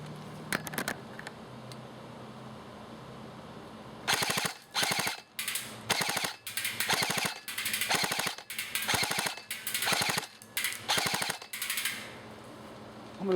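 Bursts of fire from a JG M16A2 airsoft electric gun shooting BBs, a rapid mechanical chatter in repeated short strings with brief gaps, close and loud, no talking.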